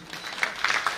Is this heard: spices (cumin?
no